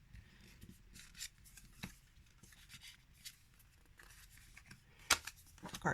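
Brand-new stuck-together cards being peeled apart by hand, giving soft dry rubs and small scraping slides with a few sharper flicks, quiet and close.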